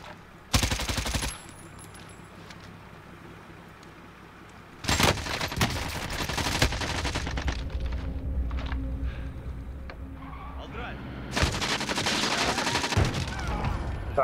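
Bursts of automatic gunfire in Call of Duty: Warzone, three loud volleys separated by quieter stretches of ambient battlefield noise.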